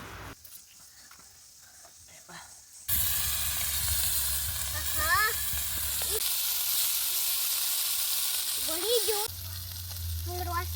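Mackerel frying in a pan in a village kitchen, loud continuous sizzling and hissing oil with occasional stirring scrapes, and a voice speaking faintly before the sizzle swells.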